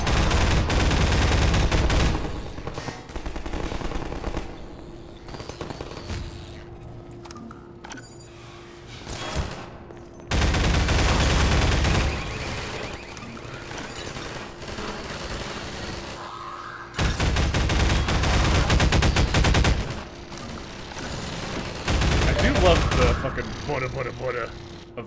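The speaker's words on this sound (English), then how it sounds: "Combine rifle. Just sounds nice and heavy." Heavy Combine rifle gunfire in Half-Life 2 comes in three long, loud sustained volleys, separated by quieter stretches of game ambience and distant shots.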